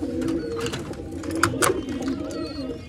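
Pigeons in a large coop box give soft, repeated throaty coos, close and steady, with brief wing flutters and no talking.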